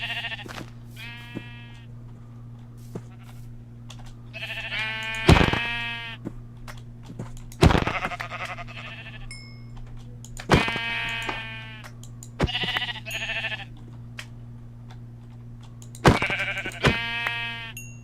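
Minecraft sheep in the All the Mods 3 modpack bleat again and again, loud, close and overlapping in irregular bursts over a steady low hum, with no talking.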